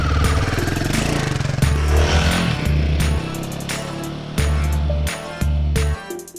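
A Royal Enfield Himalayan 450 adventure motorcycle being ridden, its single-cylinder engine thumping steadily and loud up close, with repeated surges and drops as the throttle opens and closes.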